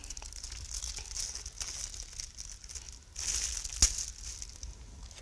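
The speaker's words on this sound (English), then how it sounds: "So now for this one, we'll use a cling film or a clean plastic bag." Cling film crinkles and rustles as it is handled and cut, with faint, close crackling and a sharp snap near the end.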